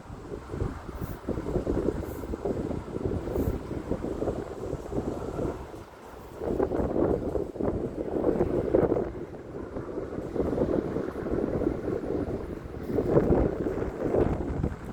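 Strong wind buffets an outdoor microphone as a steady, rumbling roar that surges in gusts, with no talking over it.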